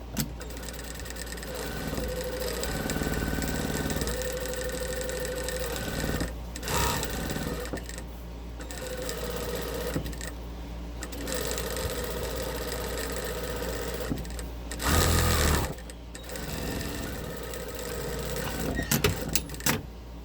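A sewing machine back stitching a lined Christmas stocking, a close, loud, rapid mechanical whirring in runs of several seconds broken by short pauses, with a voice speaking softly under it at times.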